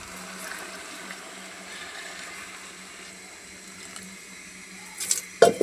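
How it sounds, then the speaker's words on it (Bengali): Hot water is poured into a pot of fried rice for chicken biryani, with a low background hiss giving way to a sudden splashing gush near the end. "এখন আমি যে গরম পানি করে রাখছি পানিটা দিয়ে দেবো।"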